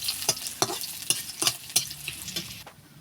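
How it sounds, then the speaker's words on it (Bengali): Garlic frying in a pan for a Bengali drumstick-leaf dish, a steady close sizzle broken by several sharp scraping stirs of a spatula, about one every half second, with no one talking. "দেখো রসুনটা ভাজা হয়ে গেছে"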